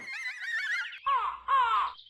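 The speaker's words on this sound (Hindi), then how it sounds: "कौवे की आवाज कौन निकाल रहा है?" A crow caws near a house, giving a drawn-out harsh call followed by two shorter raspy caws, clear and moderately close with no talk over it.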